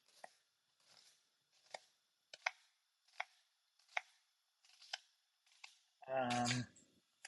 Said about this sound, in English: first things first, I'm just going to chop up some veg